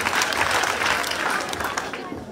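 An audience claps together at a ceremony at Agnes Omwea Junior School, a dense, steady patter close by with voices mixed in throughout.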